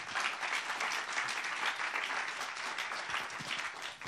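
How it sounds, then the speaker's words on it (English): Auditorium audience at an anti-corruption and integrity forum applauding the panelists, a sustained wash of clapping at moderate distance, steady and unbroken before trailing off at the end. "give our panelists a very warm applause."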